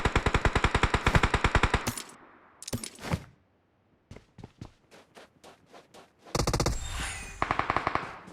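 A new gun firing in the mobile battle royale game BGMI: rapid, loud, close automatic bursts, then a pause, then spaced single shots, then another long full-auto burst, with no talk.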